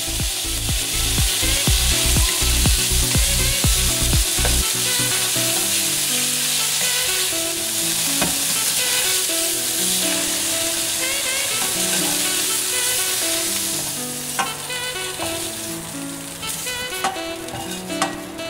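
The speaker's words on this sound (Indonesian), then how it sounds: "Setelah itu kita goreng tahunya." Hot oil sizzles loudly and constantly as tofu fries in a wok for pad thai, with quick rhythmic scraping at first, then a steadier crackle and occasional clinks.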